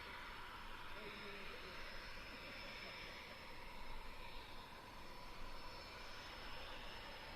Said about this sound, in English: the aircraft got turned around very quickly there and is backtracking the runway as it heads back to its parking space